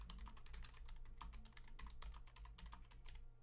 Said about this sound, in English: Typing with a microphone in front of me is surprisingly difficult.